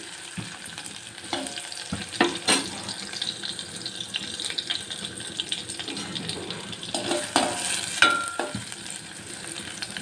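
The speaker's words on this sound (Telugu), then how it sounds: "ఆనియన్స్ అయితే వేసి కొద్దిగా ఇలా ఫ్రై అవ్వనివ్వాలి" Onions, curry leaves, cumin and mustard seeds frying in oil in a pan, a steady close sizzle with scattered clinks and stirring scrapes, no talk over it.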